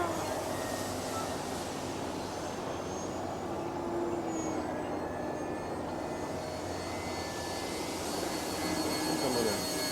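An E-flite Timber radio-controlled airplane on floats flies overhead with a steady electric motor whine that shifts slightly in pitch as it maneuvers, heard from the ground in the open, with some wind noise.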